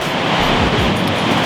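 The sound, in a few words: sea waves on the Baltic shore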